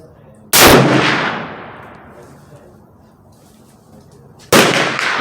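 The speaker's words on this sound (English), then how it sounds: "Take 2 shots at 25 yards, right upper target, open sight." Two loud rifle shots at 25 yards over open iron sights, a lever-action Browning BLR .358 Win or Henry 45-70 Govt, each a sharp blast with a long decaying outdoor echo, spaced about four seconds apart.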